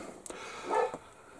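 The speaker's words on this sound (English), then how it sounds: "But the dog likes making noise." A dog being walked outside barks a few times, short muffled barks heard at a distance through a quiet indoor room, faint and brief with no talk over them.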